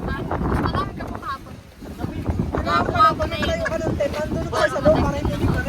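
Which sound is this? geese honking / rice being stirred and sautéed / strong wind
strong wind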